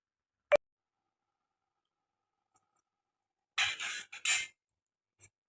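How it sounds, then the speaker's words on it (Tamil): A knife cuts boiled eggs into quarters on a board: a few sparse, close clicks and taps separated by silence, including one sharp knock and a short cluster of scraping cuts. "இப்போது இந்த முட்டையை நாம் 4 கீரலாக போட்டுக்கலாங்க"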